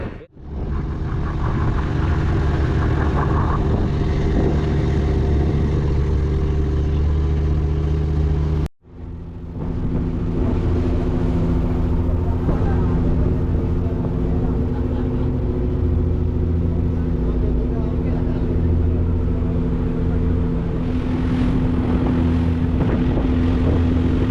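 A fishing boat's engine drones steadily on the water during a mackerel catch, a loud, constant low hum with a brief dropout partway through and wind buffeting the microphone.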